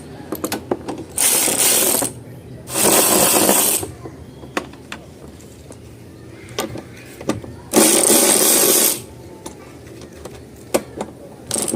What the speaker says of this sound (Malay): untuk buka ni kita buka dulu part nut.